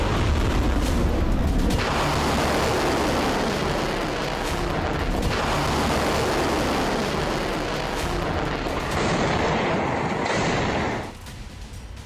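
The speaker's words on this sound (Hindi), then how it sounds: "बैलिस्टिक मिसाइलों से प्रहार" Ballistic missile strikes launched by Iran's IRGC against US targets in Kuwait: loud, continuous booming and rumbling blasts with sustained roaring detonations, a steady heavy barrage that drops off slightly near the end.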